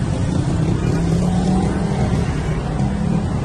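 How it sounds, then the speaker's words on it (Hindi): Heavy traffic rumbles steadily across the Ravi river bridge, a continuous dense roar of engines and road noise with no breaks, fairly loud and close throughout. "यहाँ पे बहुत ज्यादा ट्रैफिक है"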